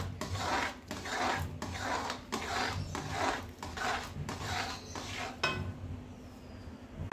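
A spoon or spatula repeatedly scrapes through thick jaggery puran filling, cooking with cardamom in a pan, in even rhythmic strokes about every half second, close and moderately loud, then stops near the end.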